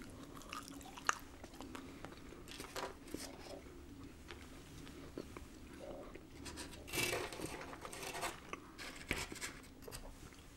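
Quiet, close-up crunching and chewing of crunchy Pizza Hut pepperoni pizza, with irregular bites and soft mouth sounds, no talking.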